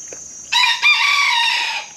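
A single close, loud crow from an American game rooster rises abruptly and holds for over a second before fading, with only faint background noise around it.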